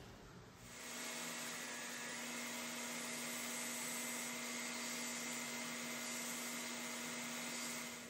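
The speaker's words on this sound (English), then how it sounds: "this marks my first use of the tabletop sander" Tabletop sander working on wooden planks for a ship model, a steady motor whine that spins up in the first second and then runs continuously and evenly, close by.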